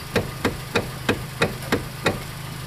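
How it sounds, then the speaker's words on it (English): A 2013 Hyundai Elantra GT's electronic power steering gives a harsh clunk. Seven sharp knocks repeat at a steady rhythm of roughly three per second, close and distinct over a low background hum. "Do you have a Hyundai with a harsh steering clunk?"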